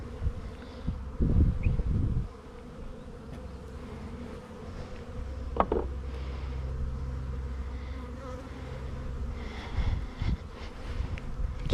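Honey bees hum steadily inside an opened nucleus hive of five frames, a continuous low drone with a few nearby thumps and rustles as the box is handled.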